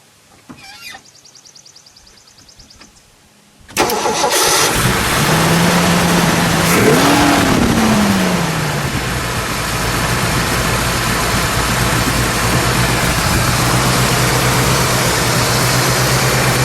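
A 1968 Shelby GT500KR convertible with a 428 Cobra Jet V8 cranks briefly, then catches with a loud roar that revs and settles into a steady, rumbling idle close by.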